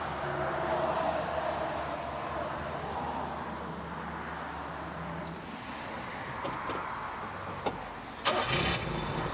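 A Kei dump truck's engine cranks and catches, then settles into a low, steady idle close by, with a few sharp clicks and knocks near the end.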